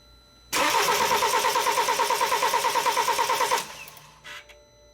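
A BMW X3 with low fuel rail pressure cranks without catching: a loud, rhythmic starter churn for about three seconds that then cuts off, followed by a brief faint noise.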